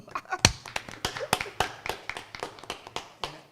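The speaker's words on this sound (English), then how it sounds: "I think it deserves an applause." A crowd claps steadily for a few seconds at a city council meeting, individual hand claps distinct and fairly close, forming a loose, uneven round of applause.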